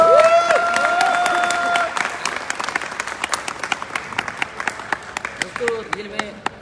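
An audience at an indoor gathering applauds loudly, the dense clapping thinning into scattered, separate claps toward the end, with a voice speaking over it at the start.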